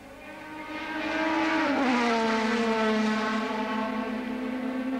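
Racing cars of the 1984 International Trophy passing at the Silverstone chicane, a loud engine whine swelling as it approaches, then falling in pitch as it goes by, with a sustained roar afterward.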